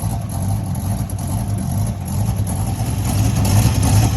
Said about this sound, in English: This E-Series have that LS engine.